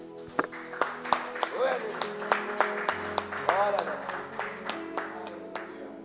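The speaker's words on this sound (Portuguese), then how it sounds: "Vamos aplaudir esse nosso Deus" Church congregation clapping in praise to God, a loose rhythmic run of claps under ongoing voices and singing, fairly close.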